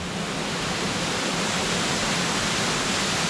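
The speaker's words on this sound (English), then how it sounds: "all of a sudden there's this amazing waterfall" A strong-flowing waterfall at the top end of a creek in New Zealand's hills, surrounded by rainforest, gives off a steady, close, even rushing roar with no pauses.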